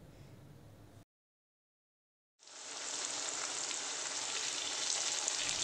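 Diced potatoes frying in hot mustard oil in a kadai, a loud steady sizzle that starts after a short silence and holds without a break, following quieter kitchen noise.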